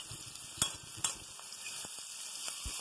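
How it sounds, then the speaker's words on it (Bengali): Two chopped onions fry in a hot pan until browning, giving a steady, close sizzle with occasional sharper crackles and a few soft stirring knocks, with no voices. "বাদামি হওয়া পর্যন্ত পেঁয়াজগুলোকে ভেজে নিতে হবে।"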